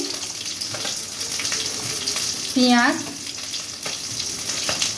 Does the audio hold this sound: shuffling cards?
no